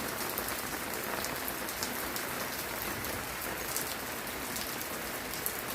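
Heavy tropical rain pours steadily in Costa Rica, a dense, continuous wash of drops hammering nearby surfaces with no letup, loud and alone without any voices.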